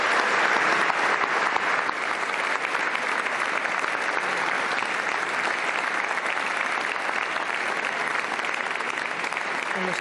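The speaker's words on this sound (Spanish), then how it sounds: "Los aplausos para el discurso de la presidenta del Congreso." Large audience in Spain's Congress applauding after the Congress president's Constitution Day speech, a long, loud, unbroken ovation of dense clapping.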